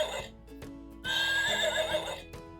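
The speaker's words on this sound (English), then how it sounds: "A horse," A horse neighs once in a long, loud whinny that carries over a faint background, preceded by a few soft clicks, with no voices.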